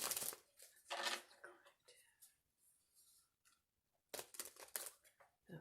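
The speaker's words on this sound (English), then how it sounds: "I didn't shuffle these little cards yet, so they're harder to shuffle." A deck of small cards being shuffled by hand, close and quiet, with crisp riffling bursts at the start and again near the end, separated by softer handling noises and a whispered voice.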